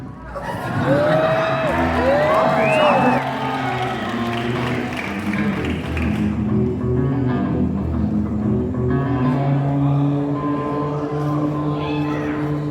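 Crowd at a Six Flags Fiesta Texas theme park event whoops and cheers near the start, with whistles rising over the noise, before it settles into a murmur and someone speaks over it.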